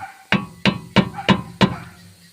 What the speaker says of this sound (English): I'm going to turn it this way and give it a tap at the same time, just to snug it up nice and tight